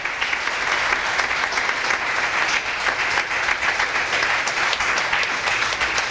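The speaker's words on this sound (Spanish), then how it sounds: "Denle un aplauso" Church congregation applause during a worship service, a continuous, fairly loud patter of many hands clapping at a steady pace for several seconds without speech over it.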